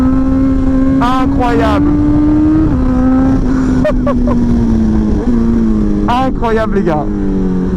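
A 2023 BMW S1000XR motorcycle engine drones loud and close at high revs, its pitch climbing slightly as it pulls, while someone talks excitedly over it in short bursts.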